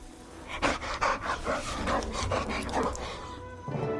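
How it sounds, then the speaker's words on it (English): A dog in a video game pants rapidly and lets out a few barks, the breathy rhythm close and continuous before a brief quieter stretch at the end. "Oh, this is good. I like this with a dog."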